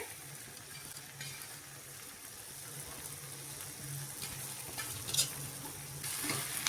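Onion and tomato with turmeric sautéing in a pan, a quiet steady sizzle under repeated scraping and stirring of a spatula, with a couple of louder clatters near the end.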